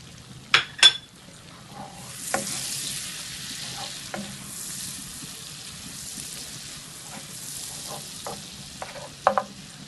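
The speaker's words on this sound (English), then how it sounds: "This is almost a stick of butter. We are going to go in and add, this is about 10 minced garlic, freshly minced." Freshly minced garlic, about ten cloves' worth, cooking in nearly a stick of melted butter, giving a low steady sizzle with a few sharp scraping and stirring clicks of a utensil against the pan.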